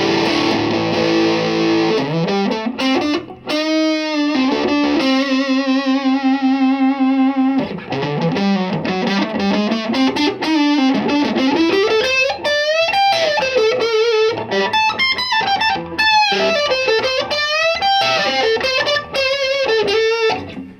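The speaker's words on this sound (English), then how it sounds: "It's just a thunderous amp, and I'm not even cranking this all the way up." Electric guitar played loud through a Peavey ValveKing VK112 tube combo amp with gain up, giving a thick, distorted tone; sustained notes and bends blend with busier lead phrases over about twenty seconds, with no pauses.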